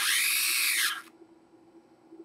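A PI Q-845 SpaceFAB positioning stage drives along its X axis with a close, bright motorized whir that lasts about a second and then cuts off, leaving a quiet hum.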